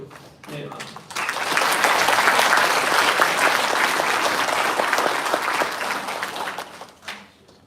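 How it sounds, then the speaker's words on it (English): Loud audience applause at a pharmacy graduation ceremony swells after a brief moment, holds steady for several seconds, then fades out. "let's give a round of applause to Neha."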